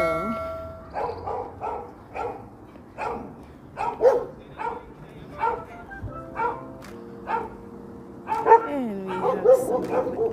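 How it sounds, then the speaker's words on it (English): Several dogs bark repeatedly from nearby houses along a hilly residential street lined with homes and apartment buildings, sharp barks recurring throughout over outdoor ambience, with a faint chime partway through. "Wow, I hear some bad dogs."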